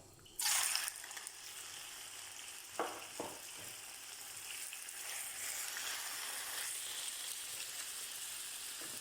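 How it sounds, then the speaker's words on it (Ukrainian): Steady, close sizzling of chicken frying in hot vegetable oil in a pan, with a loud hiss at the start and a few soft clatters of stirring. "Ставимо сковорідку на вогонь, розігріваємо, додаємо рослинну олію і вкидаємо курочку."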